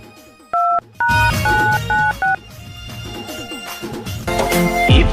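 Several crisp keypad tones beep in a quick sequence as a phone number is dialed, heard over a low background of music, which grows louder toward the end.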